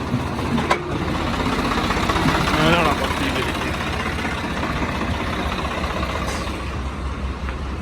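A tractor parked outside runs at idle, a steady low diesel rumble heard throughout beneath a man's brief speech.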